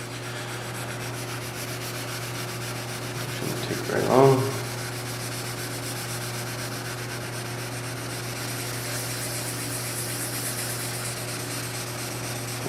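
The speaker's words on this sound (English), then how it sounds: "So we got 1500 here wet. Just going to go over it real lightly here." Soft, steady rubbing of 1500-grit wet sandpaper over car paint, with a brief louder scuff partway through and a short spoken remark.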